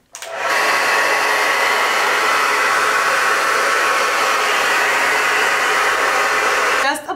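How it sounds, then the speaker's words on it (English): Blow dryer fitted with a diffuser attachment drying curly hair on low heat, a loud steady whooshing roar that switches on near the start and runs unbroken for about six seconds before cutting off. "We're gonna just use the attachment, put that on to the blow dryer and kind of just diffuse as we naturally would."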